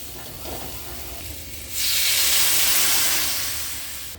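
Water poured into a hot pan of sautéed spices, green chilies and cumin for a pointed gourd and prawn curry, a sudden loud hissing burst of steam and sizzle that slowly fades, close and with no talk.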